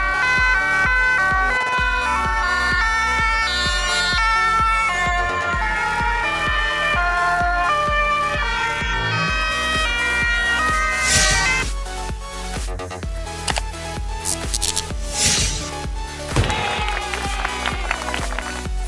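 A loud ambulance siren wails continuously over a rhythmic, music-like background, with a few sharp bursts near the end.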